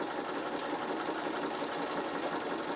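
A Bernina sewing machine stitching over thin wool, a steady close mechanical whirr running without pause.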